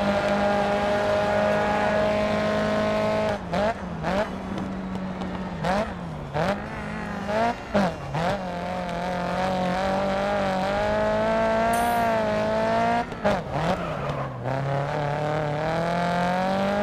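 A race car's engine in the Grid Autosport racing game revs hard and holds a loud continuous whine, dipping and climbing repeatedly through quick gear shifts with no talking over it.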